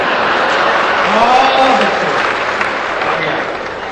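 An audience claps steadily at a comedy evening, a thick wash of many hands with a voice briefly heard underneath.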